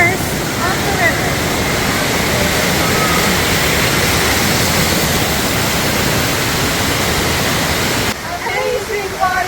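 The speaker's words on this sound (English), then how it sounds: "amazing waterfall." A waterfall at the source of a river in the mountains of Lebanon roars as a loud, steady rush of water that fills the whole scene, then cuts off abruptly near the end.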